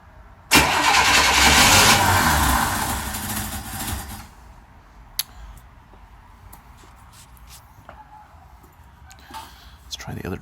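A 1963 Chevy Nova's 194 inline-six cranks loudly for a few seconds after a timing adjustment, then the noise drops to a lower, rougher rumble, with scattered clicks and voices around it.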